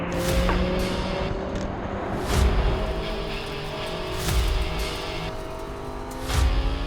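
An Audi R8 race car accelerates hard on a track during qualifying, its engine a loud, steady roar heard from onboard with rising pitch through the gears.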